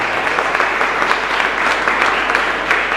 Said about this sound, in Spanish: Fuerte aplauso entonces para el Señor.